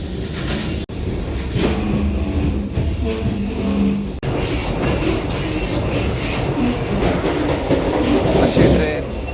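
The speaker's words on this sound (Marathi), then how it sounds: "ट्रेन सुटली" Vande Bharat express train running on rails, a steady loud rumble with rattling and clatter heard from inside the coach, broken by two brief dropouts, with faint voices in the background.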